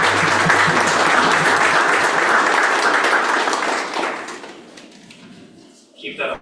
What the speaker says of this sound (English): Keep that applause going for Deputy Supervisor Tony Martinez.